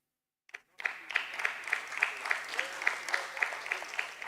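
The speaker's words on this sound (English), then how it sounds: "Thank you for those claps." Steady applause from an audience at a stock exchange listing ceremony for Shipping Corporation of India Land & Asset Limited, a brief clap or two and then a sustained round of rhythmic clapping filling the room.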